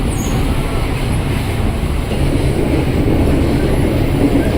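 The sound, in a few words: commuter electric train passing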